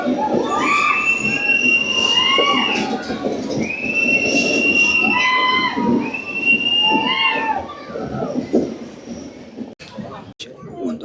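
A train on the Araku mountain railway emerges from a tunnel, its rumble joined by long sustained wheel squeals and screeches, with the noise thinning out and a few clanks near the end.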